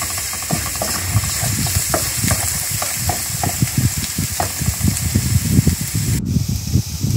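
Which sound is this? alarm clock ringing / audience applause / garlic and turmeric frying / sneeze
garlic and turmeric frying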